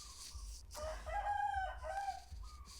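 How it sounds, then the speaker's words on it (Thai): A fighting cock rooster crows at a home where such birds are kept, one loud, close, full cock-a-doodle-doo with a strained, wavering tone, alone with no talk over it. "ไก่ขันอีกแล้ว"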